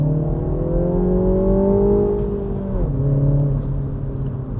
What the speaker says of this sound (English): makes a lovely growl coming from the engine